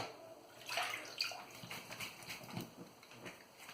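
Water splashes and trickles as a face and razor are rinsed mid-shave with a boar brush and shaving cream, a faint, irregular run of sloshing and dripping close by with no voices.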